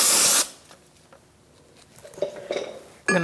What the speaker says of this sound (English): you just want to clean it off with a little brake clean.